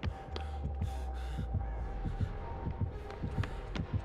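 Crows caw in the Dead by Daylight game, a run of harsh calls spread through the clip over a busy background of game sounds and low thumping footsteps.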